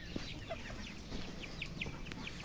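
Hens with small chicks and a rooster in a farm enclosure make soft clucks and high, thin peeps in a quick scattered series, faint and close, over a low background hum.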